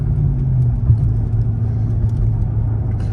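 Dodge Charger R/T engine idling and rumbling at a car wash, a loud, steady low-pitched drone with a slight surge near the start, close up and with no talking.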